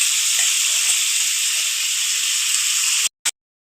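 Marinated egg and lentil mixture is being added to a hot pan, giving a loud, steady sizzling hiss that fills the space and then stops abruptly, followed by one brief burst and silence.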